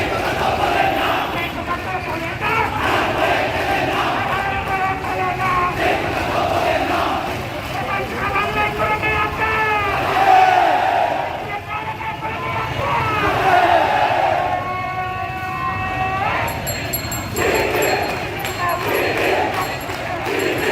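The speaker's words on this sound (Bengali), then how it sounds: "তারা বলছেন হাইকোর্ট না চাকসু, হাইকোর্ট না চাকসু, সেই চাকসু করে তারা কিন্তু স্লোগান দিয়ে যাচ্ছেন।" Student protest march in Sylhet over a suspended campus union election, a large crowd rhythmically chanting slogans in unison, loud and continuous with traffic noise underneath and a reporter speaking over it.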